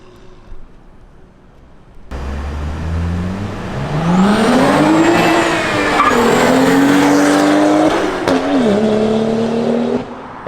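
A tuned BMW 135i revs hard while driving, its engine note climbing and falling loud and close for several seconds with steady road noise beneath and no talking.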